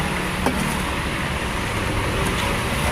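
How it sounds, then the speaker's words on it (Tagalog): A truck rolls past on a road, heard as a steady broadband traffic rumble with a continuous engine drone throughout, fairly loud and close, with no talk over it. "Ano yun? Truck yun? Truck."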